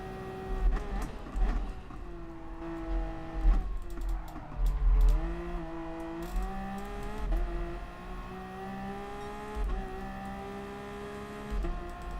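Race car engine in GT Sport during a Group 1 daily race at Circuit de la Sarthe: a droning engine note rising and falling through gear changes and revs, with occasional louder surges, fairly quiet overall.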